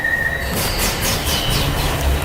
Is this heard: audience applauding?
no